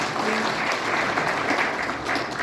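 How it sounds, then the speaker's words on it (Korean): Guests at an inauguration ceremony in Busan receive welcoming applause, a sustained, even roar of many hands clapping in a large hall. "열렬한 환영의 박수 부탁드립니다"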